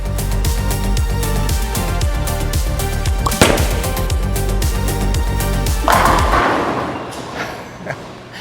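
A Roto Grip Transform Pearl bowling ball rolls down a bowling lane with a steady low rumble that ends in a loud crash of pins, followed by clattering and echoing alley noise.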